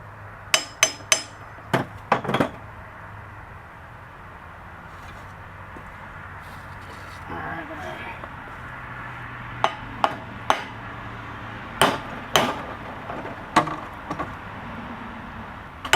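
Hammer blows on a cast iron Briggs 16HP engine ring out as sharp metallic strikes, a quick burst of three or four, then scattered single and double hits over a steady low hum.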